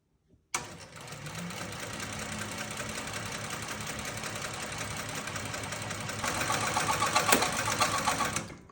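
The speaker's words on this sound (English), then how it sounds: "we'll just keep going until the bobbin stops, and it's going to stop itself" A Techsew 810W industrial sewing machine winds its bobbin, starting abruptly with a steady whirring motor hum and rapid mechanical chatter that holds constant, intensifying slightly toward the end before winding down.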